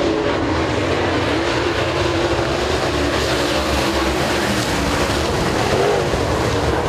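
Super late model race cars in a ULMS heat at Thunder Mountain Speedway, a steady loud roar of engines running continuously with no break, the pack sounding close and dense throughout.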